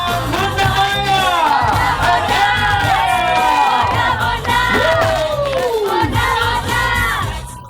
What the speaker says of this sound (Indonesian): Boleh kita beri tepuk tangan, Bunda Maya!